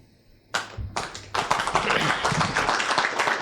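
Applause from a conference audience breaks out in bursts after a keynote speech, then swells into steady, sustained clapping that continues to the end.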